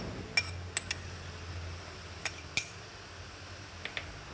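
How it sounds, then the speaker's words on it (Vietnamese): A spoon or utensil clinks sharply against a bowl a handful of times while sliced king oyster mushrooms are tossed with vegetarian satay, vegetarian seasoning, chili sauce and vegetarian oyster sauce; the sparse, quiet taps sit over near silence with no talking. "Rồi trộn đều cho phần gia vị cũng như sa tế thấm đều vào trong miếng nấm"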